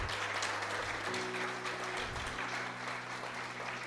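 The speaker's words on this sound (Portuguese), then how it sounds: "Eu queria que você aplaudisse o Senhor" A church congregation gives sustained, even applause for nearly four seconds, with a steady low hum under the clapping.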